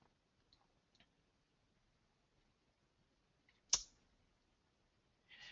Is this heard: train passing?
no